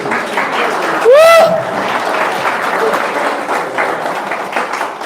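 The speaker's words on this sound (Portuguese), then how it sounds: "Vamos dar um lindo aplauso ao Senhor." Applause from a church congregation, a steady broadband clatter of many hands throughout, with a brief tonal sweep like a voice or instrument note rising near the start.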